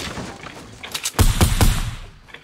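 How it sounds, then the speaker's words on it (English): Gunfire in an online shooter game, a burst of several sharp booming shots close together in the middle, with quieter thumps before and after. "The guy shooting at me."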